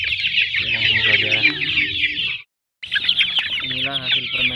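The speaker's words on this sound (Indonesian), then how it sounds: "Sekarang saya lagi di kandang ayam ini dan ingin memberi makan ayam hasil fermentasi semalam yang saya buat." Joper chickens in a coop at feeding time with fermented feed, a dense close chorus of clucks and squawks that runs on, breaks for a brief silent gap, then resumes just as busy.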